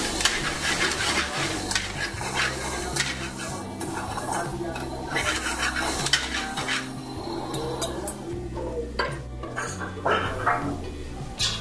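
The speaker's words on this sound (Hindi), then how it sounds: "ये शिमला मिर्च और प्याज दोनों चॉप किया हुआ जो है वो उसमें ऐड हो गया है और ये अब इसको फ्राई किया जा रहा है" Chopped bell pepper and onion fry in a pan in a hotel kitchen, a continuous loud sizzle with frequent scraping and stirring clatter of utensil on metal throughout.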